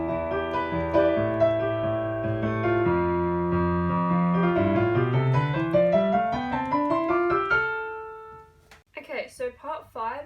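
Piano plays a theme song, a rising scale-like run of chords with both hands, clear and steady, before a voice starts talking near the end.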